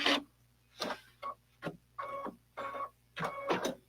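A domestic sewing machine threaded with yellow thread runs in short bursts, seven or eight separate stitching runs of whirring, each lasting under half a second, with brief pauses between and no voices.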